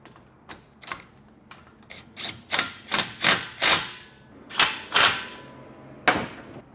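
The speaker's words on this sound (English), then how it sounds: "So I'm going to hold this square and tighten down some of these bolts." Bolts are tightened on a Toyota Tacoma bed rack, with a series of sharp metallic clicks and taps, sparse at first and then quicker and louder, close up.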